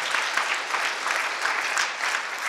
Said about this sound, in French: Applaudissez s'il vous plaît, parce que vous prenez responsabilité de ça.